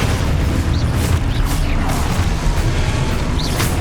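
Spell explosions in the Hogwarts Legacy video game, a dense, continuous rumbling roar of blasts and crashes with no gaps, loud and close throughout.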